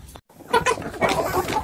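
Free-range chickens clucking close by while pecking at mixed homemade feed, a brief burst of short overlapping clucks after a moment of silence.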